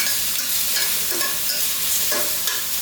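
Mushrooms, garlic and ginger stir-frying in a pan, loud continuous close sizzle with quick tossing and scraping strokes, no voices.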